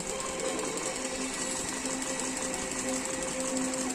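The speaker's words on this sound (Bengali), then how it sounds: "আমি ওপরের দিক থেকে টান করে করে সেলাই করছি যাতে কুচকে না যায়" A sewing machine runs steadily, stitching a palazzo salwar with the fabric held taut from above, a continuous close whirring hum with no pauses.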